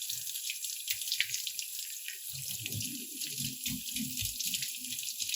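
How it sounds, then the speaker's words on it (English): Tap water runs steadily into a sink, rinsing dried India ink and tempera off a sheet of paper, a continuous close hiss with low gurgling splashes as the paper moves under the stream. "I'm going to put this under running water"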